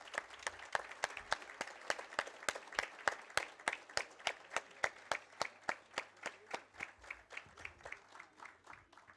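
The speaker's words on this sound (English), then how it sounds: "Please give a round of applause for all the students that is there." Steady rhythmic clapping fills a convocation ceremony hall in Mumbai as the audience applauds graduating students, evenly spaced sharp claps repeating at a slow, regular pace for several seconds.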